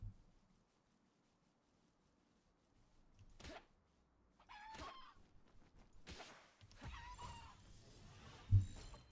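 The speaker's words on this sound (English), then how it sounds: "Chicken." A chicken in the video game Palworld clucks and squawks in short bursts amid light game sounds, rising after a quiet opening with a soft thump near the end.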